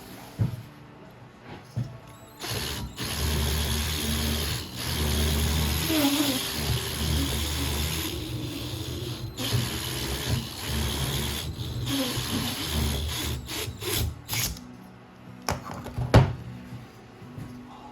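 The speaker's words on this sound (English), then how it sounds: "I'm honing out the cylinder" Honing out the oiled cylinder of a seized engine on a 1965 Toro Flymo mower, a steady scraping, grinding mechanical rasp with a low rumble, close by, with a few louder clunks and knocks near the end.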